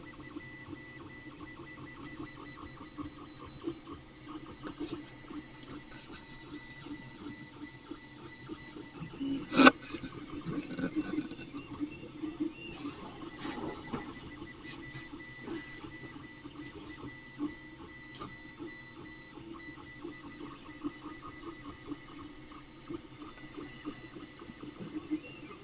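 A Creality Ender 3 Pro 3D printer running stock factory firmware and settings hums and whirs steadily as it prints, its stepper motors buzzing in shifting tones with a brief sharp click near the middle, no voices over it.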